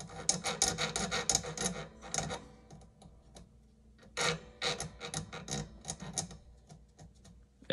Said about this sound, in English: So I'll just take and get that burr right off there.